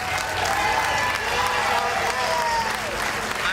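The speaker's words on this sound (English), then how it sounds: "big round of applause for Bobby" A crowd applauds steadily for a man named Bobby at a Special Olympics charity ride event, dense clapping with some cheering, loud and continuous throughout with faint voices mixed in.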